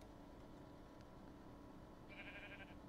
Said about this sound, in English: Lots of sheep.